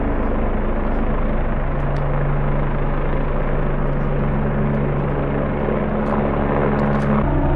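Over the mountains, a helicopter on a training flight with a Riga crew throbs loud and close, its rotor and engine drone holding steady throughout.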